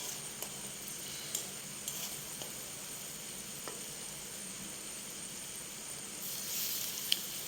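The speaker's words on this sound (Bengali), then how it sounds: "মশলাটা আমি একটুখানি কষিয়ে নিয়ে তারপরে দিয়ে দেবো মাছগুলো" Spice paste sizzles and fries in oil for a lote fish curry, a faint, steady hiss with occasional small ticks and clinks of stirring.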